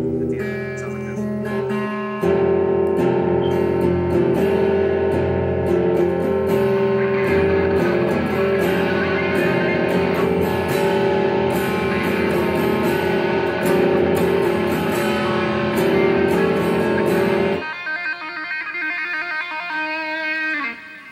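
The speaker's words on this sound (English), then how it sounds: "He sort of string skips and pulls off to open strings." Distorted electric guitar plays a fast run of notes, skipping across strings and pulling off to ringing open strings, then ends on a trill.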